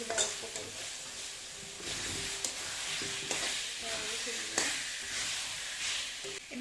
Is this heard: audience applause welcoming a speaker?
no